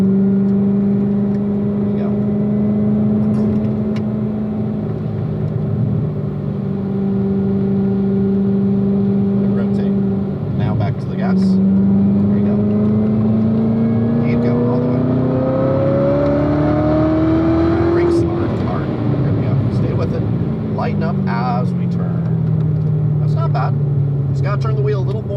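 A car accelerates through a cone course, its engine note rising steadily in pitch as the gas is squeezed, loud and continuous, with an instructor talking over it.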